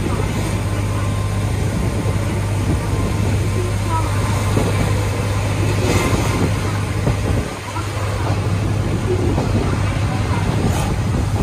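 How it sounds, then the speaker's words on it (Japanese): A KiHa 40 diesel railcar departing a station on the Hojo Railway, its engine giving a steady, loud low roar that holds for the whole stretch with a brief dip partway. "このキハ40の轟音とともに、この青駅を出発をしてきます。"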